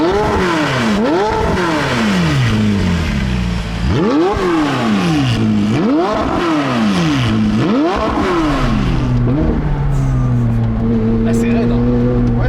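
A McLaren 675LT Spider engine on the road, revving hard and repeatedly climbing in pitch before dropping at each gear change, then settling into a steadier drone; loud and close throughout.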